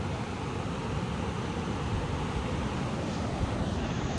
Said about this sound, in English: We got some more running water, which I have to show you.